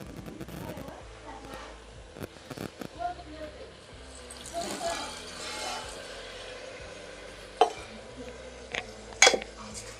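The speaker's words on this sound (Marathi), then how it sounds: "आता आपल्याला त्यामध्ये ऍड करायचं आहे पाणी" Water poured into a pot of rice for spiced masale bhaat, splashing amid clinks of metal utensils and a sharp clatter near the end, while someone talks throughout.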